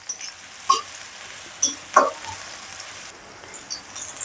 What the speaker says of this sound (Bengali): পেঁয়াজ এবং রসুন ভালো করে নেড়ে চেড়ে নিচ্ছি।